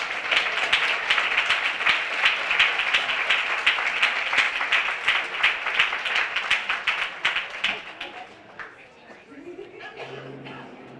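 Sustained, loud audience applause at an awards ceremony, dense clapping filling the room for about eight seconds before fading out into a few scattered claps and quieter room sound.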